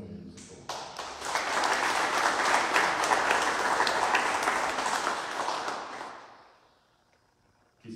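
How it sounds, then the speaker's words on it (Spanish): An audience at an ambulance handover ceremony applauds local authorities and directors, a crowd of clapping that swells, holds for several seconds, then tapers off into quiet. "Un aplauso para cada uno de ellos."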